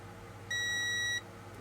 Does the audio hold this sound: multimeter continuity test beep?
yes